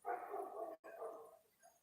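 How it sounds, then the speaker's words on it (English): A dog barks and yips in two quick, fairly faint bursts separated by a brief gap, the second trailing off into a softer whimper. "Yeah, here come a dog."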